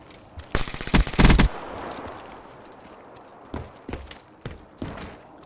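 Machine gun fire in a first-person shooter with a VMP, a loud rapid burst near the start followed by scattered single shots and short bursts, close and punchy.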